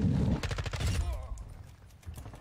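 Rapid bursts of light machine gun fire in a Call of Duty game crackle loudly through the first second, then fade into a low, busy background of game noise with faint voices.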